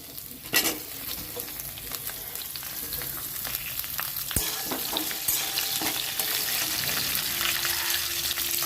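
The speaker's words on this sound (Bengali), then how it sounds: "আর বাকি সবজিগুলো একইভাবে ভেজে নিচ্ছি, তবে এগুলো একসাথেই দিয়ে দিচ্ছি সব" Mixed vegetables frying together in a pan for a curry, a continuous sizzle with scraping stirs and a few clinks, the hiss thickening toward the end, no speech.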